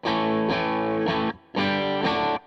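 A Stratocaster runs through an EarthQuaker Devices Plumes overdrive pedal into an Orange Super Crush 100 amp. It plays loud, sustained, mildly distorted chords in a rhythmic pattern, with a brief gap before two more chord hits, and no talking.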